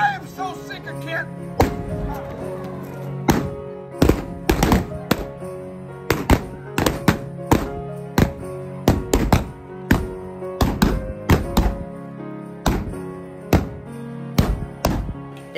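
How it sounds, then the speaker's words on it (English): Gunshots ring out in a staged Wild West gunfight show at Calico Ghost Town in Yermo during a holiday event. Loud, sharp bangs come in uneven bursts, sometimes two or three close together, with faint crowd sounds in between. "It's time for the Wild West gunfight."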